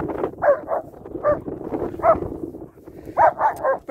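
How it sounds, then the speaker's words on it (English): A dog barks in short bursts, pausing briefly between pairs of barks, with a quick triple at the end; close and fairly loud. "stop barking"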